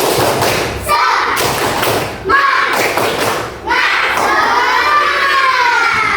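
Second-grade children chant together in a loud, rhythmic group clapping cheer in a classroom, with clapping bursts and thumps at regular beats, a whole room of young voices close by.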